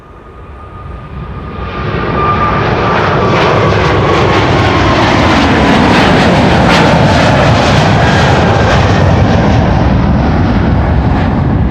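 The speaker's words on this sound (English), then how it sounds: "This is KLM flight 7901 going to Sao Paulo," KLM Boeing 777-300 bound for Sao Paulo at Amsterdam Schiphol, jet engines swelling from a moderate rumble to a loud, sustained roar within a few seconds and holding there, close and powerful.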